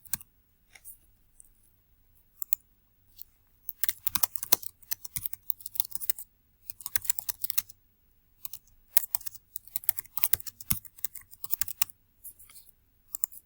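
Bursts of typing on a computer keyboard while naming a new detector, with quick irregular clicks coming in clusters and short pauses between them, fairly close and with no talking.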